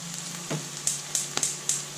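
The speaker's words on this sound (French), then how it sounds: "j'ai pris une poêle à sec pour faire griller mon petit lard" Bacon pieces fry in a dry pan for a ranger burger, giving a soft steady sizzle broken by several sharp pops and crackles at irregular intervals.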